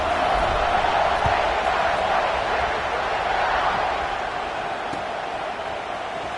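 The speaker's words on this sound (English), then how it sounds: "this crowd is feeling themselves after that last drive" A large college football stadium crowd roars in a dense, sustained wash of cheering and noise after a touchdown drive, loud and steady throughout with no distinct individual voices.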